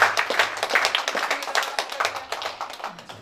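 Church congregation clapping at a Sunday service, a moderately quiet patter of many hands with distinct rhythmic claps standing out, close and unbroken for a few seconds with no voices.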